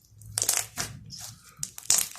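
A glittery slime toy crunches and crackles as it is squeezed, with several bursts of crisp, close crunching separated by brief pauses and no voices.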